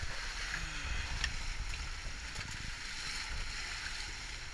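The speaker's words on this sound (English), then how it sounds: "the water sounds lovely" Steady broadband rush of water against a boat hull at sea while underway over waves, with low wind rumble and no voices.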